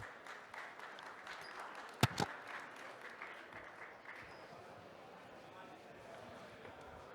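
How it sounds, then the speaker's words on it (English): An audience at the Red Bull Basement National Finals at TechChill 2026 gives faint, scattered applause as presenters come on stage, with a sharp knock near the start before the clapping thins out. "Applause, applause."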